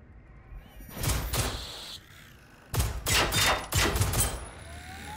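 Pistol shots fire in the video game Generation Zero, two separate clusters of sharp, loud bangs split by a brief lull, close and dominant with no speech.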